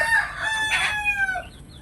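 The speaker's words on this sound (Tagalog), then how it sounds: "Madami mga mahal ko, mga manok." A chicken in a coop gives one close, clear crow that rises and falls over about a second, with faint clucking background and no talk.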